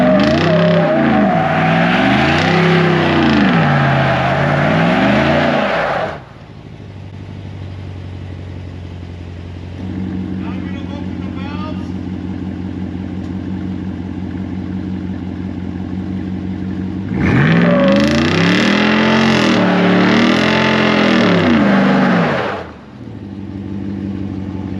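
A Jeep Wrangler 392 with an AWE exhaust doing a line-lock burnout roars loudly as the engine revs hard for several seconds, drops to a lower rumbling idle, then surges into another loud revving burst before cutting back.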